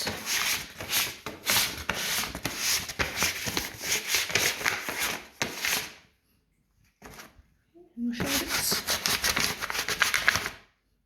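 Steady scratchy rubbing of sandpaper lightly sanding the soles of boots in quick back-and-forth strokes, pausing briefly with a couple of soft bumps before resuming.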